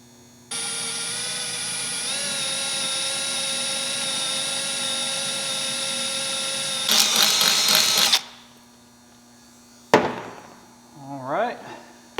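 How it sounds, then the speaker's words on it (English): A power drill bores a hole in a 4th-gen RAM with a 5.7 HEMI for a water/meth injection nozzle, whining steadily for several seconds, then rising into a harsher burst before stopping, with brief talk at the end. "Alright, let's get our hole drilled."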